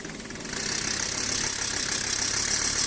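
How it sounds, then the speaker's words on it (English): A diesel engine runs steadily at idle, a dense, even rumble with a faint knocking texture that swells slightly after the first half second and then holds constant, close and alone without talk. "Listen to that diesel run."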